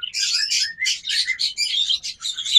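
A pair of lutino opaline red-eye pet birds in a bird shop gives rapid, high chirps close by. The bursts come in quick succession and fill the short stretch with no other sound.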